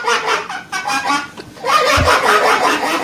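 A man's fart shaped to imitate a duck, coming out as loud, close, honking quacks in short bursts, sounding much like a goose or fowl call.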